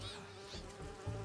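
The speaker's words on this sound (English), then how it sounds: "Do you see those little holographic bee wolves?" Holographic bee wolves buzz in Marvel's Spider-Man 2, a brief close insect drone with wavering pitch over quiet game ambience.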